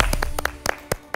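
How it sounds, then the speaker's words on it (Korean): Brief scattered claps from a church audience during a sermon-style Bible lecture, several sharp separate hand claps over about a second rather than sustained applause, fairly quiet with no talking. "박수."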